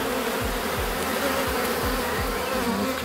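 A dense, steady buzzing of many black honeybees close by at an open hive with a young queen, a continuous drone with faint low thumps recurring underneath.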